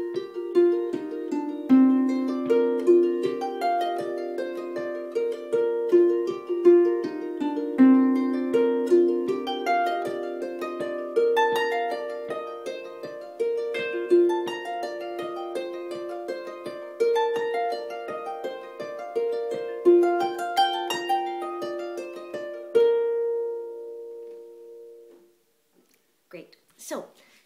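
Celtic harp playing a tune's melody with the right hand only: plucked notes in a flowing line, ringing and overlapping, loud and alone, then fading out near the end with a few faint noises.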